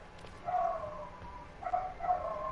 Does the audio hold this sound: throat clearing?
no